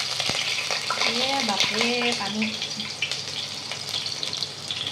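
Onions hit hot oil beside white mustard seed paste in a home kitchen, giving a steady close sizzle with light stirring, while someone speaks briefly over the frying.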